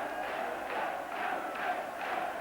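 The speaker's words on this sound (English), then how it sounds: "Norwegian crowd already beginning to celebrate" Football crowd noise at a 1982 World Cup qualifier between Norway and England, the Norwegian supporters roaring and cheering in a steady, dense wash of distant voices that swells slightly but never lets up.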